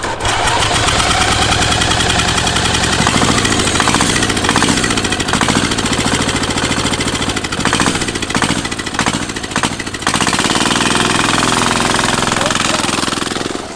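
Loud turbo diesel engine on a racing go-kart running steadily with a rough, knocking clatter, its note fluttering and surging midway before settling back to a continuous drone.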